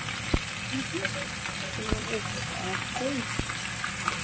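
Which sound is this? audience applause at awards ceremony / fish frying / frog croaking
fish frying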